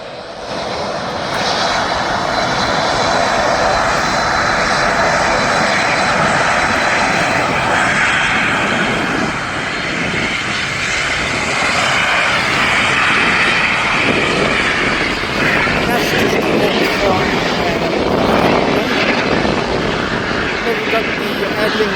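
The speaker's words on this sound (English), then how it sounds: "There's a flight behind you now. It is a Turkish Airlines." A Turkish Airlines airliner at Birmingham Airport roars loudly with jet engine noise that swells and holds steady throughout, close by, with a voice talking over it.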